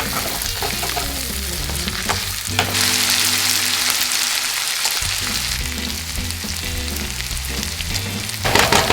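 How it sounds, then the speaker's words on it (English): Vegetables sauté beside browned meatballs in a pan, giving a loud, dense, continuous sizzle like steady rain. Occasional utensil clicks sound up close, and the frying swells for a moment partway through. "Now it's time to add our vegetables and saute them for about 3 minutes."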